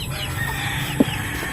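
Chickens gathered at a home during Christmas preparations give a single short cluck at close range, set against a steady low background murmur.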